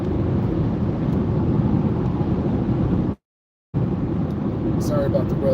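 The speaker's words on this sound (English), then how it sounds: "Sorry about the road noise." Road noise from a car driving on an expressway: a loud, constant low rumble and wind roar from inside the vehicle, cut by a brief silent gap before resuming.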